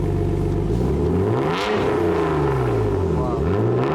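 A Nissan R34 GT-R engine revs through a Tomei Expreme Ti titanium exhaust, rising and falling in deep rumbling sweeps twice over a few seconds, loud and close, with people talking over it.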